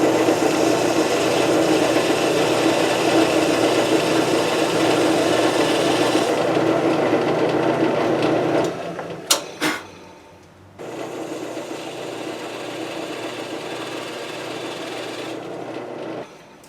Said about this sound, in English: We're going to drill those 2 holes first.